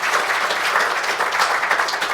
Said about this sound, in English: How about a round of applause for these